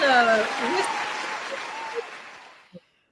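A round of applause at a Christmas ugly sweater party fades away under a couple of speaking voices, the clapping thinning out and dying to silence before a final faint tap.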